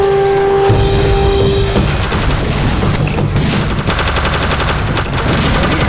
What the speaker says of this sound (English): I'll grab a machine gun